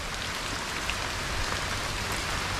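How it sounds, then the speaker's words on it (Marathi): Light monsoon drizzle falls steadily through the jungle, dripping from the trees as a soft, even hiss of raindrops with no gaps. "आता एकदम रिमझिम पाऊस आहे एवढा काय नाही"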